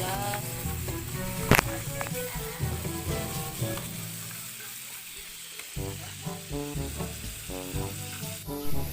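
Freshwater shrimp (ulang) cook in a pan with a steady sizzle, while music plays over the frying and a sharp clink sounds near the start.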